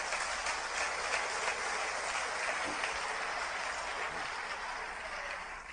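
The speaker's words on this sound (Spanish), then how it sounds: "Aplaudan, mano" A lecture audience claps together in a dense, steady wash of applause that holds at a moderate level throughout and fades slightly toward the end, with no voices over it.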